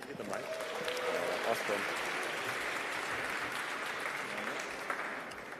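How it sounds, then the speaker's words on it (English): Steady, fairly faint crowd applause fills a closing-ceremony hall for the Collective Action team's demo, a continuous wash of many hands with a few voices murmuring underneath. "please give a big round of applause for Collective Action"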